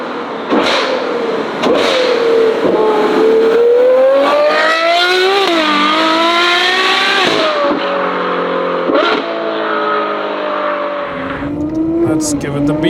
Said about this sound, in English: But this car with this exhaust, you can listen to this in the gym, going to bed, whatsoever.